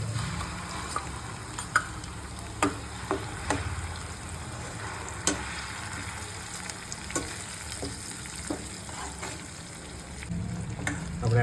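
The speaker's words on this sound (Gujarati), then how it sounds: "આમાં આપણે કાંદાની પેસ્ટ ઉમેરી દઈશું." Onion paste fries in a pan for rajma masala, a continuous soft sizzle with scattered scraping and clicking stirring strokes, nearby and free of talk.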